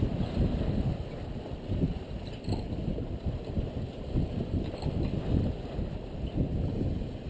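Steady wind rushes and buffets a sailboat off North Eleuthera under a southerly breeze, a continuous close roar with low gusty rumble and faint water sounds, no talking.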